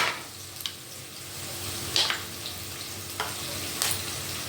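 Black pepper and cashews fry in ghee for ghee rice, a faint, continuous sizzle close by, broken by a few sharp pops and light clinks.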